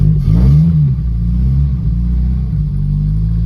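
1968 Morris 1100 MK2 engine cold-starting without choke in mild weather: a quick catch then a loud, steady low idle rumble, close and continuous.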